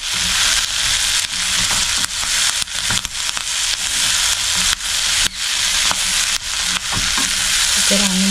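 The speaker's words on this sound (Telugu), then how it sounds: "దీన్ని చక్కగా కలిపేసి" Papaya curry stirred in a hot pan, with a loud, steady sizzle and frying crackle throughout and repeated scraping strokes of the spoon against the pan.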